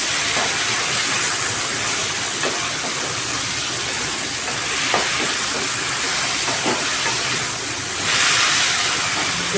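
Manathakkali greens being sautéed in a pan for a thuvayal, giving a steady broadband hiss and crackle that runs the whole time with no talk over it.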